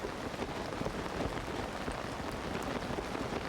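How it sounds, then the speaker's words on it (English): Steady rain falls in the video game Zelda: Tears of the Kingdom, a soft, dense, even patter with no break, fairly quiet and alone. "the fucking rain just keeps coming back"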